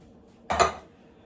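Cabbage and two cans of diced tomatoes being loaded into a crock pot for cabbage roll soup: a single short clattering knock of food and utensil against the pot, close and brief, with no talking.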